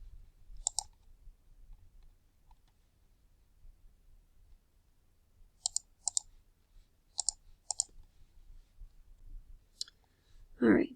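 A computer mouse being clicked while drawing lines in graphing software, sharp crisp clicks in pairs and small clusters separated by quiet pauses, close and clear over near silence, ending with a brief rustle.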